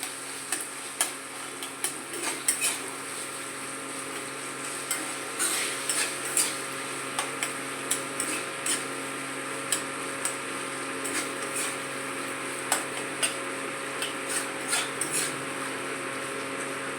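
Arum root paste is stirred with spices in oil in a pan, heard as faint, steady ticking scrapes and light clinks of a spoon recurring every second or so over a low background, close but quiet.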